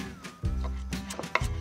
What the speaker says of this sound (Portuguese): Então a gente pode cortar esse coentro.